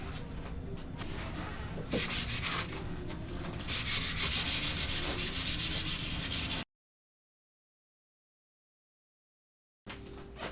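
Close, steady scratchy rubbing of sandpaper over a wooden guitar neck in repeated back-and-forth hand-sanding strokes, louder in bursts, then a gap of silence before it resumes.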